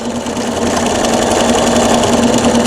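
A home sewing machine runs continuously while free-motion quilting a feather design, a close, steady high-pitched motor whir with rapid needle rhythm throughout.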